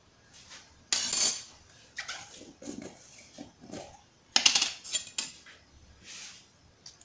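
A metal spoon clinks against a bowl while honey is mixed into cookie dough for crisp ghriba biscuits. Two loud, sharp bursts of clatter stand out, with softer scraping and tapping between them and no voices.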